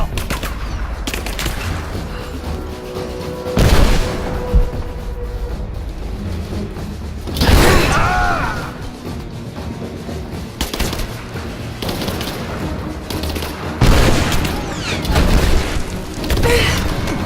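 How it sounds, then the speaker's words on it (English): Bursts of gunfire from a firefight in Rise of the Tomb Raider, with loud booming shots and rattling volleys recurring every few seconds over a constant background of game ambience. "Hostile spotted! Come on. I'm under fire!"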